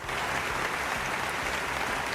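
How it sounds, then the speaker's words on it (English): An audience claps together in a steady, dense patter of applause lasting a couple of seconds, fairly close and even, with no voices over it. "Yeah, you can clap."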